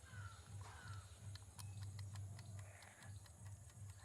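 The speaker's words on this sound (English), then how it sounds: "Can you hear the ticking?" A tomato-shaped kitchen timer ticks steadily in a quiet room, with faint, regular clicks over a low background hum.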